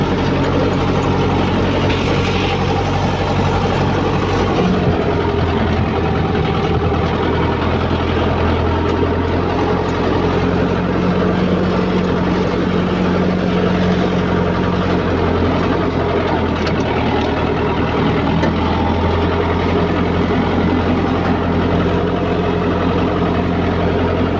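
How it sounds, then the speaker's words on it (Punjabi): A loud, steady low tractor engine rumble in second gear runs continuously, close by, with a constant droning chug and no voices. "ਹੁਣ ਆਪਾਂ ਦੂਜੇ ਹਾਈਏ 'ਚ ਵੀ ਵਧੀਆ ਚੱਲਦਾ ਟਰੈਕਟਰ"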